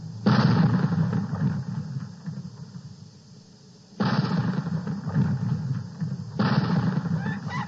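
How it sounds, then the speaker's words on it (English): Cannon blasts in a 1978 KTIB Thanksgiving turkey shoot TV game, heard as three loud, booming bursts, each followed by a rumbling decay, with a brief quieter gap between the first and second shots. "This happy hunter has selected the cannon to go on a turkey shoot on KTIB"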